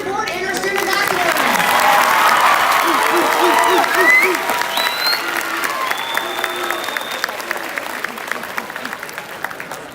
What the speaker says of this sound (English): Please give a round of applause for our student board and our student ambassador.